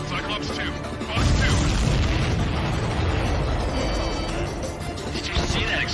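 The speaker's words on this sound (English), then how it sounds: "Did you see that explosion?" A supply ship explodes in the Ace Combat 7 flight game, a loud rumbling blast that swells after a second and rolls on under radio chatter and engine roar.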